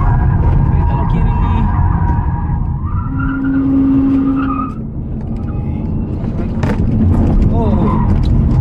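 VinFast VF e34 electric car cornering hard on a time-attack race track, with a sustained tire squeal and a steady road-noise rumble throughout, while a person talks over it in the cabin.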